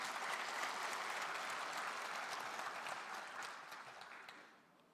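A crowd at a public hearing on the Gwangju–South Jeonnam administrative merger in Haenam gives the governor steady, dense applause that tapers off near the end.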